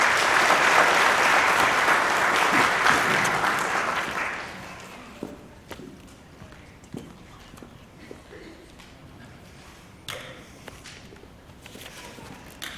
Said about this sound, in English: Let's give these girls a big round of applause.